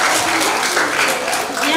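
A school audience claps for pupils at a green day event, a brief burst of steady, close applause.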